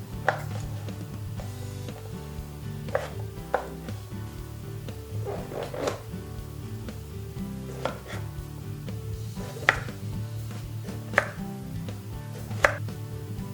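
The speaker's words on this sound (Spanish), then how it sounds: "Esta la estoy cortando en rodajitas" A knife slicing a vegetable into rounds on a cutting board for vegan black rice, with irregular crisp chops and board taps over a low background hum, close up and without talk.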